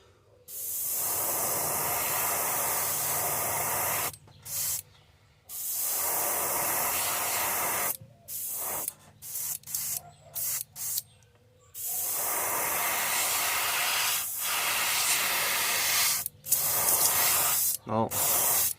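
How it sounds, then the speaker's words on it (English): Bursts of an aerosol spray can hissing while painting a fishing lure, several long sprays broken by short pauses and quick puffs, close by. "So we're just gonna spray this right there."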